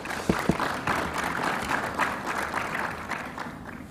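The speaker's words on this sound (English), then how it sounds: "Hands of applause, please." A conference room of people claps in applause, a dense burst of many hands that stays steady for a few seconds before tapering off.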